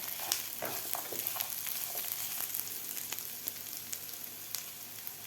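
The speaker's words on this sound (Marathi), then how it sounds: "आता कांद्याबरोबर आपल्याला मिरच्या आणि लसूणसुद्धा व्यवस्थित भाजायचं आहे" Chopped onion, green chilies and garlic fry in a pan with a crackling sizzle, punctuated by sharp spattering pops and light stirring scrapes, moderately quiet and close, with no talking.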